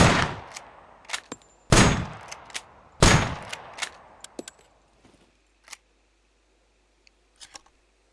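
Gunfire at a car in the video game SCUM: several loud sharp shots in an irregular burst, each trailing off with a short decay, then sparse quieter impacts and clicks spaced apart toward the end.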